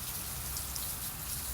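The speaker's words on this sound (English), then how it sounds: "It just started raining out here." Rain falls outdoors beside a 2007 Jeep Wrangler that has just had rear brake work, a dense, even hiss of drops striking nearby surfaces that carries on without a break and with no voices.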